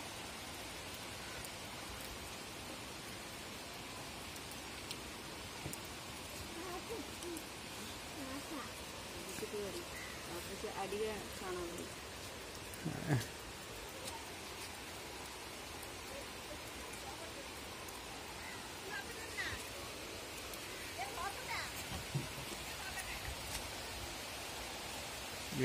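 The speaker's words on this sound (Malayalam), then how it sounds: "അങ്ങനെ ഒരു ഒന്നൊന്നര മണിക്കൂറത്തെ ഇടവേളയ്ക്ക് ശേഷം വീണ്ടും മഴ പെയ്തുകൊണ്ടിരിക്കുകയാണ്" Heavy rain pours steadily across a rural Kerala landscape near a stream and paddy field, a dense continuous hiss with scattered drip and patter accents, no voices.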